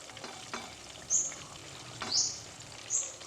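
Teochew spring rolls wrapped in tofu skin and seasoned with five-spice fry in oil over medium heat, giving a steady low sizzle with a few brief sharper crackles.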